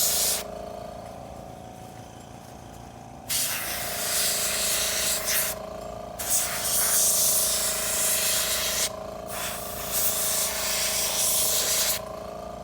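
Airbrush spraying paint onto a Reaper Bones Goremaw miniature during shading, a steady close hiss in several bursts separated by short pauses, over a low constant hum of the compressor.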